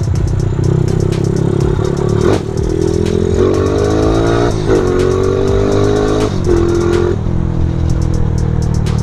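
A Honda CB motorcycle on a test ride revs hard and shifts through the gears, its engine note rising and dropping in repeated pulls, loud and close with rattly mechanical clatter and wind, no speech.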